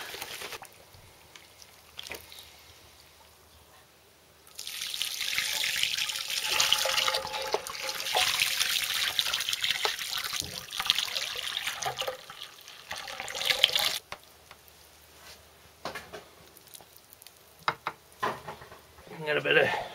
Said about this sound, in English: Right, the big pour. This is going to be about 10 litres.